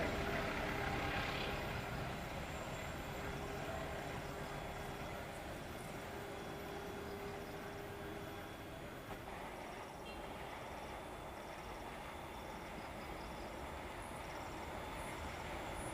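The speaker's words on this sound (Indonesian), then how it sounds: "Ini dia guys, kereta api Argo Dwi Bangga, gacor banget nih" An Argo Dwi Bangga passenger train in Indonesia rolls past, a loud, steady rumble of wheels and carriages that holds at full volume throughout, with no talk.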